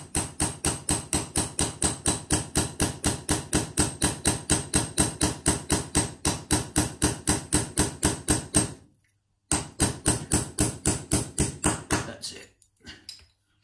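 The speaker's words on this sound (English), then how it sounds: "we're just going to tap these pins out. Just a gentle tap." A hammer tapping pins out of a euro cylinder lock held in a vise, a rapid, even run of sharp metallic taps, briefly paused, then resuming and tapering off near the end.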